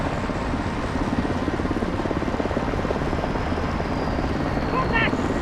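A military helicopter in Call of Duty Modern Warfare 2 gives a continuous rhythmic rotor thump and engine drone, loud and close throughout, with game voices and effects layered faintly over it toward the end.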